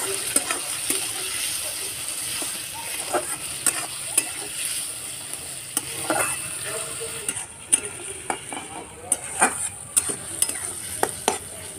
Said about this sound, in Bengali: ভালো করে মাছের তেলটা ভেজে নিতে হবে